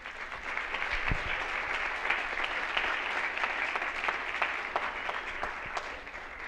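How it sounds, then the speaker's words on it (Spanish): Sustained audience applause fills a congress hall at the closing declaration of a pro-life congress, steady and dense from start to finish with no talk over it. "Un aplauso para ellos."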